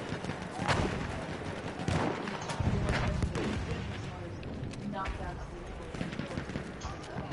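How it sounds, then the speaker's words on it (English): Grenade explosions and gunfire in the World War I shooter Battlefield 1, several heavy bursts thudding at irregular intervals amid battle noise, with players talking over the din. "A lot of grenades now."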